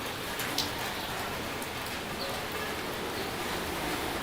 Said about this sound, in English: The rain on this ladder is making a very interesting sound.